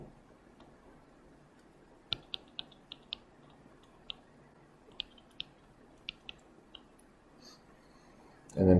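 Light key presses tapped on a calculator, about a dozen quiet clicks spaced irregularly over a faint room hiss, with a louder bump at the very end.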